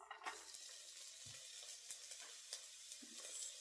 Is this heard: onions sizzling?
yes